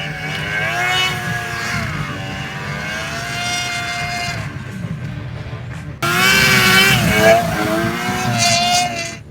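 Snowmobiles riding on a frozen lake in Granby, Colorado, engines droning and revving loudly up close, pitch rising and falling as the machines accelerate, with a sharper louder surge partway through.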